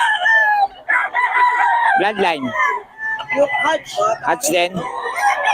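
An SBR Bloodline gamefowl rooster crows repeatedly at close range, sharp harmonic calls broken by short gaps, while someone talks over and between the crows.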